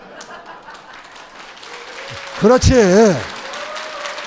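Audience applause at a Korean CBMC conference gathering, a short burst of clapping rising over someone speaking through a microphone, with talk continuing around it.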